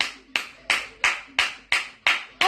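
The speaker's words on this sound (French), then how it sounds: "On applaudit." Slow, evenly spaced hand claps, about seven sharp slaps in a steady rhythm, each ringing briefly with a little room echo. Close and clear with no voices over them.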